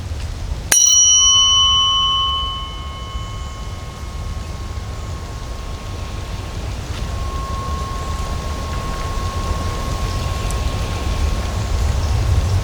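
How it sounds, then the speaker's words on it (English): A low 174 Hz tone struck once outdoors on a breezy day, ringing out with bright overtones that fade while a steady low hum keeps vibrating for many seconds over wind noise. "let's go do a low frequency. 174 hertz."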